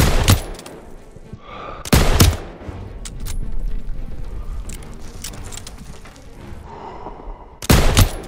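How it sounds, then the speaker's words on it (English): Machine gun fire in the Call of Duty WWII battle, with sharp loud bursts at the start, near two seconds and at the end, and a steady rumble of combat noise and distant shots between them. "MG's open fire!"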